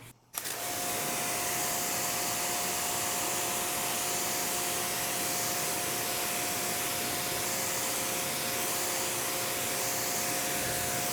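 Water spray rinsing a car panel coated with Soft99 Fusso Coat, a steady loud hissing rush that runs unbroken for the whole stretch at close range, with no talk.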